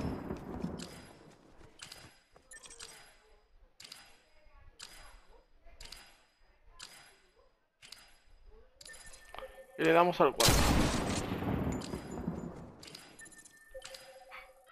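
Gunfire in the video game Fortnite: a run of sharp, evenly spaced shots over several seconds, then a louder burst near the end, with someone talking over the game audio.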